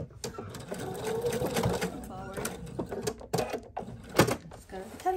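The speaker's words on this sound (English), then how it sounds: "we just finished sewing these together" A sewing machine stitches quilt pieces together, a close, busy whirring hum with rapid mechanical ticking that rises and falls in short runs, while someone talks over it.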